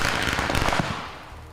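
A thermite reaction burns with giant sparks, a loud fizzing, crackling roar with sharp pops that fades over about a second and a half, with no talk.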